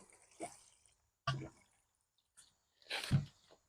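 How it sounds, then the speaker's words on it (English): Water from watering drips and splashes into a container of newly planted carrots covered with cardboard, a few separate wet plops with quiet gaps between them, close by. "I'm going to water it in."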